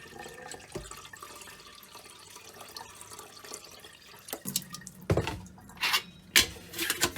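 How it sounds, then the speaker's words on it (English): Water runs and splashes into a kettle, a steady gurgling stream that grows louder and more uneven toward the end. "So the first thing is, let's fill the kettle with water."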